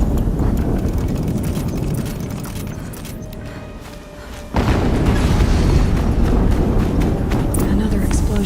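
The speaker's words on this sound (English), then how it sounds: "Another explosion." Explosions in the PS4 game Horizon Zero Dawn boom loudly under a dense rumble of game noise. The roar dips briefly, then a fresh blast hits hard and the heavy noise carries on to the end.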